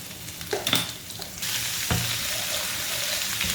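A tadka of cumin seeds, slit Kashmiri chilies, green chilies and garlic frying in hot oil in a home kitchen for kadhi pakora. A steady close sizzle rises sharply after a few stirring clinks and faint splashes.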